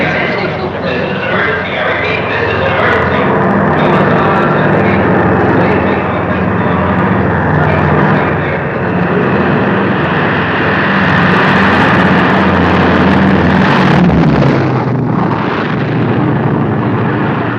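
An airplane engine roars loud and steady at close range for a long stretch, a dense continuous drone during an emergency, with faint voices underneath.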